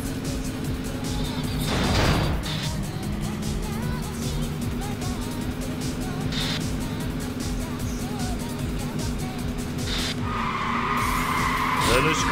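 Cars race at full throttle in the Yakuza 5 street race, a continuous engine roar with tire skids and squeals, brief whooshes of passing cars and a voice speaking over it.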